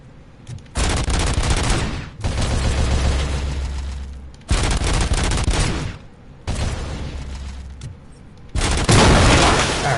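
Repeated heavy bursts of gunfire at a turret in the RoboCop: Rogue City video game: four or five loud, sustained volleys lasting one to two seconds each, separated by short pauses, with a deep booming low end.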